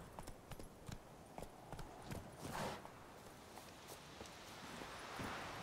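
Horse hooves clip-clop in The Witcher video game in a quick, steady rhythm that speeds up, with a louder rush of movement midway, and faint game sounds underneath.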